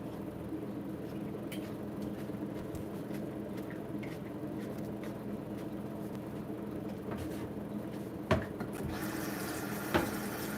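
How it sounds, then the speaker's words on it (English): Tap water runs steadily into a sink, rinsing a cutting board, a constant close wash of water with a couple of brief knocks near the end and no talking. "Just clean off the rinse off the cutting board here."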